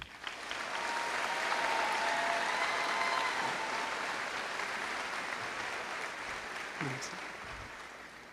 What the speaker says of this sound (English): giving them another round of applause